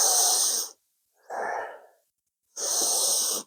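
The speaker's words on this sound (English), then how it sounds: "Inhale forward and up, exhale back and down." Deep yoga breaths during slow shoulder rolls: a long, loud, close airy breath, a softer shorter one after a pause, then another long full breath, with silence between.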